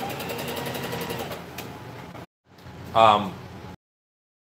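A sewing machine runs in a steady whirring stitch for about two seconds, then cuts out, and a person's voice follows over a quieter background.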